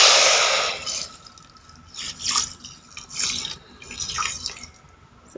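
Water poured from a cup over sugar for a sugar syrup, splashing and trickling in several short bursts with faint drips between them. No one speaks.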